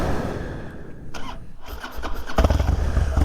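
A Harley-Davidson Dyna Glide Street Bob motorcycle cranks over briefly, then catches and fires up into a loud, rumbling low engine idle that continues to the end.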